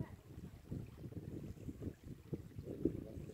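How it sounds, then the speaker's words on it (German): Gentle sea waves lap and wash against a windy shore, a soft continuous low rumble of water with wind buffeting the microphone, no voices. "Ich hoffe, ihr hört so ein bisschen die Wellen plätschern."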